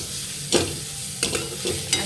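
Spices being stirred in a hot pan, turmeric, coriander powder and homemade masala frying in oil, with four sharp scraping strokes of a spoon over a soft sizzle.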